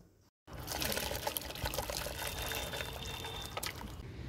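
Green peas tipped into sugar water already simmering in a kadai, giving a steady close splashing, pouring rush that starts after a brief silence and runs unbroken to the end, with no talk.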